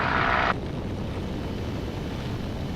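A Beechcraft Bonanza piston engine runs steadily at full run-up, a loud broadband drone with wind buffeting over the microphone, a brief hissing burst at the very start.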